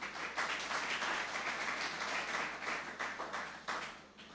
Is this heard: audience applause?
yes